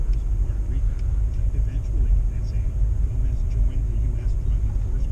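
A 2008 Subaru Outback 2.5i with a five-speed manual drives along in light snow, its low engine and road rumble steady inside the cabin with faint ticks and rattles over the top.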